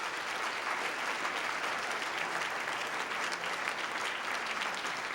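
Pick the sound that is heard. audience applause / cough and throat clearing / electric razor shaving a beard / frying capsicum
audience applause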